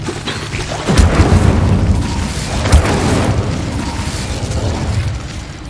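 The Incendio fire spell in the game Hogwarts Legacy erupts with a deep fiery whoosh and boom, followed by a rumbling roar and a second burst, loud and close.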